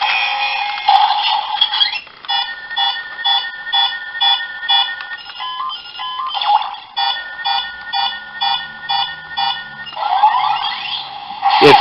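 Repeated all-clear alert tones from a DX Gashacon Magnum toy gun pulse steadily in a fast, even rhythm, with rising warbles and a sustained buzz at the start and end.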